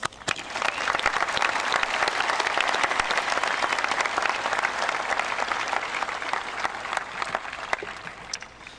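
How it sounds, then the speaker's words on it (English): A high school graduation audience applauds steadily for several seconds, dense clapping from a large crowd in an indoor hall, sustained and even throughout with no voices standing out. "Another round of applause."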